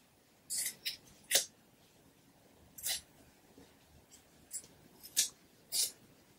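Scissors snipping through jacket fabric while refashioning the garment into a jumpsuit: about eight short crisp cuts in irregular bursts, close and fairly quiet, with no talking.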